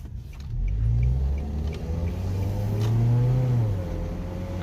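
A 2002-2006 Nissan Altima 2.5 engine with a cold air intake revs up loudly and climbs in pitch, with a deep rumbling exhaust and a throaty intake roar, no voices.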